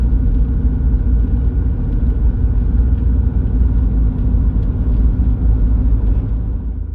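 A Mitsubishi Pajero's diesel engine running while driving through a DPF regeneration, a loud, steady low rumble and drone heard from inside the cabin with no change in pace.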